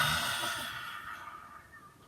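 A long exhale releasing a held breath during a yoga breathing exercise, a breathy sigh that is loudest at the start and slowly fades out, close to the microphone.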